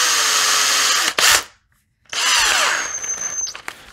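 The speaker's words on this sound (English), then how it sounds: "That allows me to chuck it up inside the drill easier." A power drill whines loudly at speed while working on a wooden swimbait lure, stops for about a second, then spins up again, its pitch sliding and squealing as it runs.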